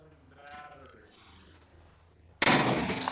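A single close, loud gunshot from a DPMS 16-inch A4 rifle fitted with an HVT suppressor at a shooting range, a sharp broadband blast arriving after a few seconds of quieter background murmur.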